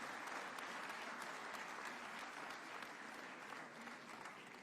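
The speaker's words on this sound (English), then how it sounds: "another hearty, warm clap for Sir Mo Ibrahim and His Excellency, the President" Sustained audience applause for Mo Ibrahim and Kenyan President William Ruto at a governance conversation event, dense steady clapping from a large crowd throughout, fairly distant.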